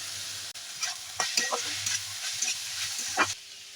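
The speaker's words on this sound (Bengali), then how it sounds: "1 চামচ ঘি দিয়ে দিচ্ছি। ভালো করে মিশিয়ে নিলাম।" A spoon stirs radish and pea curry in a pan after ghee is added, with soft scraping strokes and a light sizzle running under the strokes for a few seconds, no voices.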